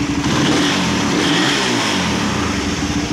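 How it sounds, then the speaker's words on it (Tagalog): Honda Raider 150 carbureted motorcycle engine running after a cam timing fix, a steady close mid-pitched rumble with slight revving swells, loud and continuous with no voices. "Ito na yung andar ng makina ngayon."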